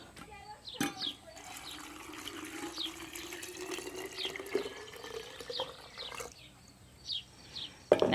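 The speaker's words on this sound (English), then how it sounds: "Rinse that salt out of there." Water runs from a tap, rinsing salt out of a 2-quart glass jar, with a steady splashing flow and a few clinks of glass, fairly quiet and close.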